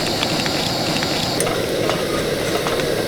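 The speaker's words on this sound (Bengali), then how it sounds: "এই মিষ্টি বা পিঠেটাকে ভাজার সময় অবশ্যই কিন্তু খুব ভালোভাবে তেলটাকে গরম করতে হবে।" Sweet palm-fruit pitha frying in hot oil, a dense, even bubbling sizzle that holds steady throughout, close and fairly loud, with no voices.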